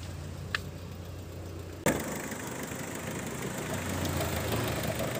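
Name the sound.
Mitsubishi Kuda Grandia 2004 diesel engine idling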